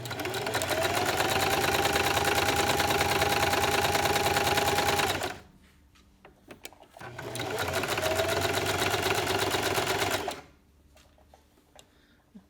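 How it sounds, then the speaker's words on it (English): A sewing machine stitches the cuff of a 0–3 month baby sleeper in two loud, steady whirring runs of about five seconds each, separated by a quiet pause with faint clicks as the stitching reverses. "This is an important area to backstitch, so reverse."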